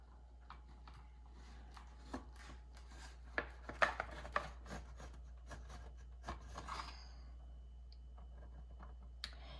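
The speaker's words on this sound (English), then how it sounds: "Now what I'm going to do is just slice the whole loaf of bread." A knife saws through a whole loaf of bread, sliced one-handed: soft, quiet rasping strokes with light crumbly clicks, a few louder scrapes through the middle, all over a steady low hum.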